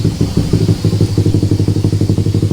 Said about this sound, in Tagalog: yun na yung last run ni Bulldog at naging maganda naman yung tuning niya